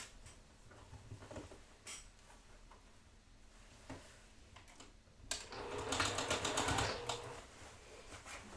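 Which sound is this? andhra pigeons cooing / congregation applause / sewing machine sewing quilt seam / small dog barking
sewing machine sewing quilt seam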